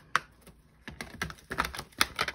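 Playing cards being shuffled quietly and close up, a run of crisp, irregular clicks and riffling taps in quick bursts, with no talking.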